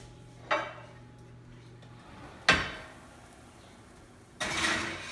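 A baking tray of kale chips slides into an oven with three sharp metallic clanks spaced a couple of seconds apart, the last one followed by a brief scraping rattle, all fairly close in a quiet kitchen.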